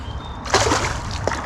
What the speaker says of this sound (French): je mouille l'épuisette